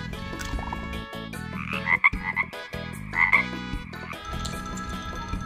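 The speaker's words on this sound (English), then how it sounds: "Frog." A frog croaks in repeated bursts, close and clear, with a musical backing underneath and no talking.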